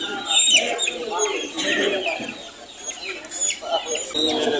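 Gamecock roosters at a crowded backyard gamefarm banding event in the Philippines cluck and call in overlapping bursts, close and busy, with people talking in the background.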